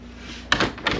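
A door on a two-story floating cabin opens with a short scraping sound in two quick bursts, close and fairly loud after a quiet room tone.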